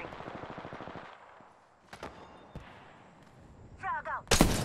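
Gunfire in the video game Apex Legends, a quick rattling burst of automatic shots followed by scattered single cracks and thuds, moderately loud, with game sounds around it.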